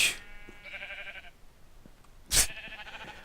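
Sheep in a pen in the Minecraft video game bleat twice, each bleat short and wavering and set off by a sharp hit-like thump, fairly close against a quiet background with no talk.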